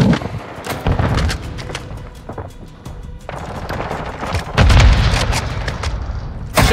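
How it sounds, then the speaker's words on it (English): Grenade blasts and rapid gunfire in the Call of Duty Modern Warfare 3 (2023) shooter, loud booms with a heavy low-end thump near the start and again near the end, among bursts of shots. "Grenade out!"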